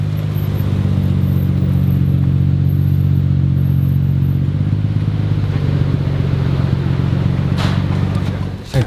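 A Nissan Skyline R34 GT-R driving on the road with a loud, close, constant engine drone that holds steady and then fades slightly at the end.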